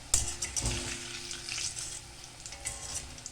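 Naan pakoda frying in oil, a close bubbling sizzle with a few clinks and scrapes of a utensil turning the pieces, without any voice.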